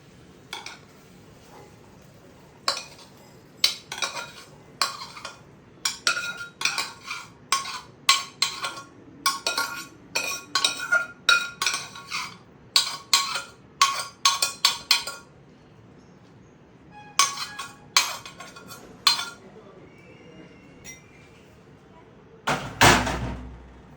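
Cooked chana is poured into a bowl amid a long run of sharp clinks, clatters and knocks of dishes and utensils, irregular and close, ending with a louder burst of clatter.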